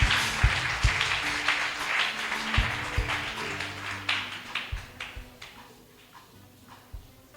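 A church congregation at an evangelical gospel festival claps in rapid, dense applause, loud at first and fading toward the end, with sharp individual claps standing out.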